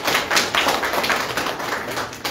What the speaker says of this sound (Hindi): सभी तालियां बजाएंगे।